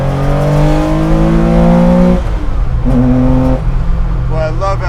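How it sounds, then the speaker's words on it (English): A track-built 1973 Porsche 911 RSR engine revs hard and close, its pitch holding steady and then dropping between pulls, with a second burst of revving toward the end and voices talking over it. "I love how it just keeps revving and revving and revving"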